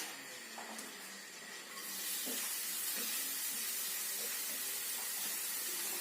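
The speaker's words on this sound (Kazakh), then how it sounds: "Енді біз оны жай отта майға салып қуырамыз" Sliced onions frying in oil over low heat for borscht give a soft, steady hiss and sizzle that swells after a couple of seconds and carries on evenly, with faint stirring taps and no voices.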